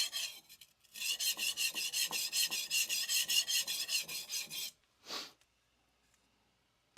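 Nakamura Hamono curved bunka knife sharpened on a Morihei 1k whetstone: a steady run of about fifteen rhythmic rasping strokes, close and fairly loud, then a pause and one last stroke before quiet.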